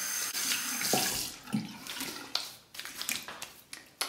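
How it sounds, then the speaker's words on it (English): Hot water runs steadily from a tap with irregular splashes as a face is rinsed during a straight razor shave, close and fairly loud with no talking. "let me rinse my face."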